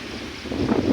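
Strong typhoon wind buffeting outdoors at dawn, a loud blustery rush with microphone buffeting that swells toward the end, continuous and without talk.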